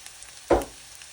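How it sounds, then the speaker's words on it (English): Cumin seeds dropped into hot oil, a single short sizzling burst that quickly fades to a faint background hiss. "And then I'll put the cumin seed in here now. And what will happen is they sort of puff out as they fry."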